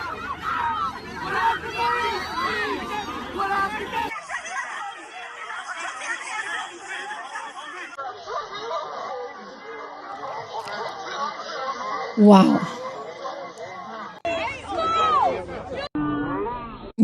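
Crowd chatter at a protest as a woman pushes and shoves her way through the throng: a steady babble of many voices with a few louder shouts, and a brief exclamation from someone nearer.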